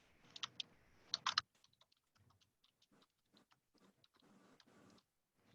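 Typing on a computer keyboard, a few loud clustered key presses at first, then a long run of quieter, irregular keystroke clicks, close and alone.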